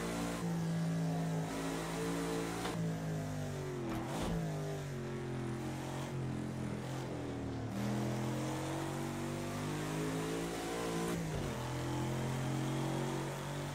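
Lotus 40 race car engine in a PC driving game on the Nürburgring at night, a loud continuous engine note rising and falling through the revs with several gear changes and accelerations, alone without talk.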